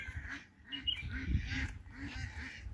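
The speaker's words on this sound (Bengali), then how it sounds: "সব হাঁস এখানে।" Ducks at a village pond, several birds giving repeated honking quacks in a loose rhythm, fairly close and moderately loud, with no talking.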